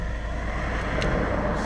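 A 2016 Mazda 3 GT with a 2.5 L 185 HP engine and Super Pro Street 9000 mufflers, giving a steady, even exhaust drone with a low rumble for a brief moment, without talk.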